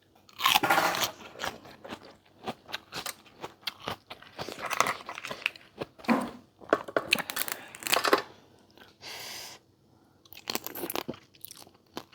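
Crunchy bites and chewing of pickled raw crab with roe, crisp crackling crunches coming close and loud in irregular bursts with short pauses, and no talking.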